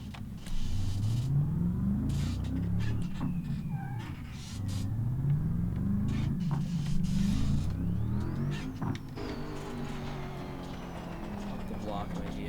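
A car driven in the BeamNG driving simulator, its engine droning and rising and falling in pitch as it accelerates and shifts, with steady mechanical noise throughout and some scattered clicks.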